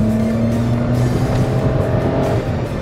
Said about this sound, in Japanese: まあどうしてもねマフラーが特性上やっぱりそこまで音が大きくはならないのかなっていうところもあるんでね